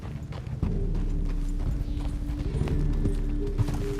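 Horse hooves clip-clop at a steady riding pace in Red Dead Redemption 2, close and clear over a low ambient rumble of the game world.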